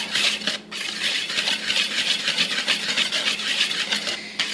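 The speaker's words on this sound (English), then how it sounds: "let me grab my whisk really quick. I want to mix this together really well" A whisk beats flour into wet batter for Butterfinger blondies in quick, rhythmic scraping strokes against the bowl. The close, busy swishing pauses once briefly and then keeps going, with no voices.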